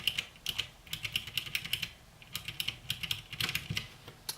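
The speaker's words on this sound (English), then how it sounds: "You tap it a little bit and it actually clicks in, and they sound beautiful." A cheap RGB mechanical keyboard with blue switches, its keys tapped in quick uneven bursts of crisp clicks, close but fairly quiet, with no one speaking.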